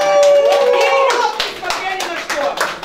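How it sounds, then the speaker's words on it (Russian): Wedding guests clap together during a bride price game, a loud burst of hand claps that thins into scattered clapping, with a voice calling out over it. "Аплодисменты подарите вперед!"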